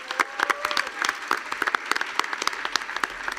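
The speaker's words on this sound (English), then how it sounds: "a round of applause for all the other pitches," A burst of audience applause at a startup pitch showcase, with individual claps clearly separated and close to the microphone, steady through the short stretch and thinning slightly toward the end.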